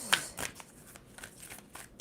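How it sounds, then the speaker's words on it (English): A brief, soft riffling of tarot cards being shuffled, a couple of quick papery flicks close by, with no talking. "2 more shuffles for Taurus."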